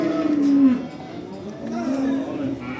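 Calves at a cattle market in Barda give low, drawn-out moos, one stronger call followed by a weaker one, against a busy market background with voices.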